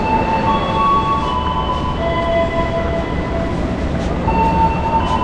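The Progo passenger train pulling out of Pasar Senen station in Jakarta, a loud steady rumble of rolling railcars with thin high-pitched wheel squeals drifting in and out, no talk over it.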